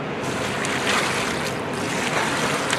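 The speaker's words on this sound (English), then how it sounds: "All right, let's add the water." Water poured over expanding pellets gives a steady, broadband rushing wash for nearly three seconds, fairly loud and even with slight surges, with no voices.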